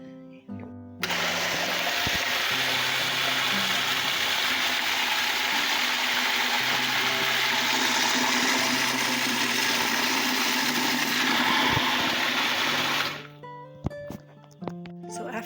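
A blender pulses tomatoes, bell peppers and onions for salsa, a loud, steady whirring roar for about twelve seconds before cutting off, with faint bumps and clatter around it.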